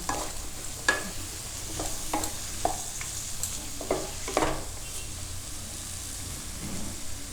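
Capsicum and mixed vegetables cooking in a pan for sabudana khichdi, a soft sizzle under several distinct scraping strokes of a spoon stirring at irregular intervals, close and moderately loud, no speech.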